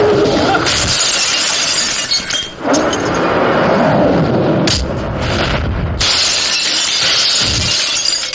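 Car window glass is smashed in loud, close bursts: a long crashing shatter, a short break in the middle, then another sharp crash and sustained breaking glass.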